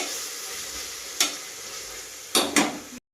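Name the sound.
sautéing ginger-garlic paste in tomato masala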